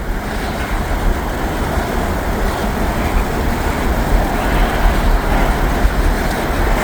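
A slow-moving train rolls past through cold, snowy surroundings, giving a steady, loud low rumble and broadband rail noise that holds evenly throughout with no voices.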